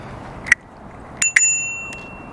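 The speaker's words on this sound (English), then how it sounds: "You can use the bell." Bell on a Varla Eagle One electric scooter rung three times: one sharp ding, then a quick double ring that is left to ring on and fade, clear and close over quiet room noise.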